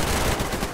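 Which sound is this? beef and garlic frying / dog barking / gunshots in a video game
gunshots in a video game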